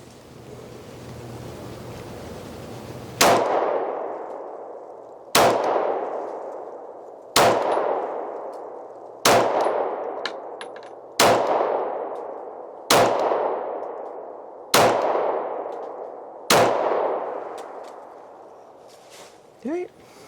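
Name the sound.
Sig Sauer P220 10mm pistol firing aluminum case rounds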